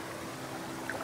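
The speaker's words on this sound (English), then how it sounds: "Little waterfall running out." A little waterfall pours out at a creek campsite, a steady soft broadband rush of running water with a faint splash near the end, close by and unaccompanied by talk.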